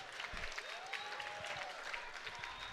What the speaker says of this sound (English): a round of applause for 2 great fighters and 1 great fight